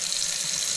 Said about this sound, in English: Turn the water back on at your faucet.